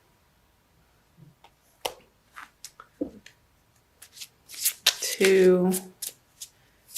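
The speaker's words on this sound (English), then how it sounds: "I'm going to pull a crystal card for you from Judy Hall's deck using the Crystal Wisdom Healing Oracle." Oracle cards from the Crystal Wisdom Healing Oracle deck being shuffled and handled, soft papery slides and taps building to a louder riffle, close up, with a voice speaking briefly.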